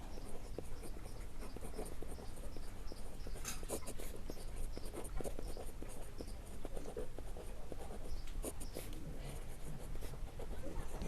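Pen or pencil scratching steadily on paper as a maths equation is written out by hand, close and soft, with faint background noise and no clear talking.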